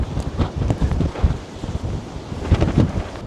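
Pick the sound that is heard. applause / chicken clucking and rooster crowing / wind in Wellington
wind in Wellington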